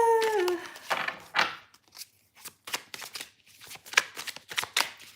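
Tarot cards being shuffled in quick riffling bursts, crisp papery flutters repeating several times, close and clear with no voices.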